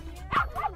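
A poodle gives two short, close yipping barks in quick succession, the second slightly longer and whiny, over a faint background murmur.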